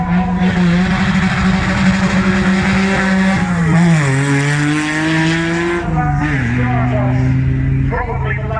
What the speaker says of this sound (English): probably the loudest car we have had up the hill all day, and just lost TVR